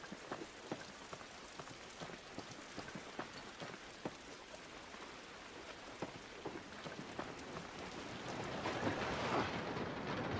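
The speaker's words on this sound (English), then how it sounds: "This rain ain't gonna do us any good." Steady rain falls in The Last of Us, a dense outdoor hiss with scattered drop patters throughout, swelling slightly louder near the end, with no voices.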